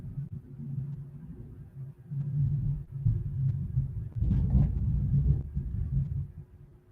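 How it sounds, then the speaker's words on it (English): Thunder rumbling outdoors, a deep, continuous low rumble that swells louder toward the middle and then eases, with no other sounds over it. "That thunder's crazy out here"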